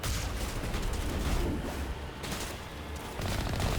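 Gunfire in the video game Mass Effect sounds as a dense, continuous barrage of overlapping shots and blasts, loud and close, with no talk over it.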